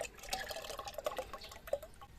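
Water pours and splashes into a container to dilute chicken manure fertilizer for watering cucumbers, a short, close, bubbling and trickling stream.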